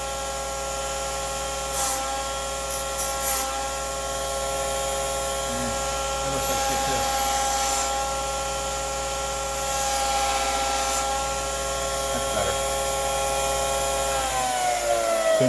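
A handheld power tool grinds steadily against metal edges, taking out burrs and rounding them off, with a continuous whine that holds through the whole stretch and brief scraping bursts as it bites.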